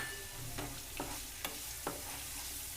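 Onions fry with crushed garlic and green chilies in a pan, giving a steady close sizzle. A spoon stirs through them in regular scraping strokes about every half second.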